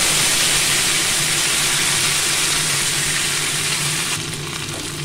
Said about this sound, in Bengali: ধুয়ে নিয়ে এটা আমি কড়াইয়ের তেলে দিয়ে দেবো ফোড়নে